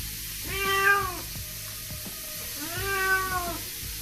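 A cat meows and cries plaintively twice while being bathed, each drawn-out wail rising and falling over steady background noise from running water.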